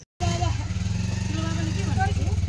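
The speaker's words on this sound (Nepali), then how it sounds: "दाइले चाहिँ बाइक स्टार्ट गर्न थाल्नु भयो" A motorcycle engine catches abruptly after a moment of silence, then settles into a steady, close, rhythmic idle chug.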